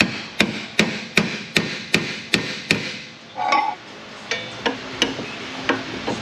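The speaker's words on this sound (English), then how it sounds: "that's just going to take a little bit of hammer action. Just tap it in there." Hammer tapping a bushing into a damaged car subframe: about seven sharp, evenly spaced metallic strikes, then a brief scrape and a run of lighter taps, close and clear with no talk.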